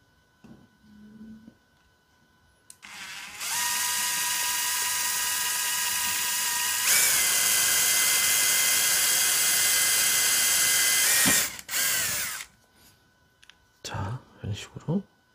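A power drill boring holes for an 18650 battery project, a loud steady whine that holds for about eight seconds and then cuts off, with soft voice and handling noises before and after.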